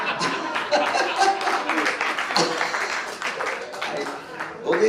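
An audience at an Indian film event claps in a steady, dense patter that runs throughout, with people talking over it.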